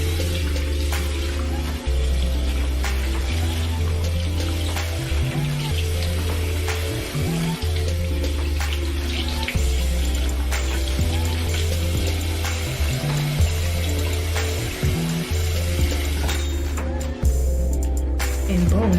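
Tap water runs steadily from a faucet while a lace frontal wig is rinsed clean of shampoo and glue, a continuous close splashing hiss under loud background music with no talking.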